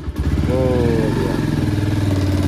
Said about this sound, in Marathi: आता बाईकला जरा असं पोचा मारतो आणि मग रेडी आपल्या जर्नीला स्टार्ट करतो